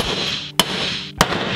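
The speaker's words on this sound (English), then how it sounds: "I'm gonna just smash it with the hammer." Hammer striking a neodymium magnet twice, two sharp metallic cracks about half a second apart, close and loud over a steady background hiss.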